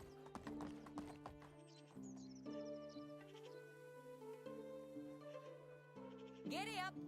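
Horse hooves clip-clop at a steady trot in the video game Medieval Dynasty, loud and close over game music, with a horse whinnying near the end and a voice speaking briefly.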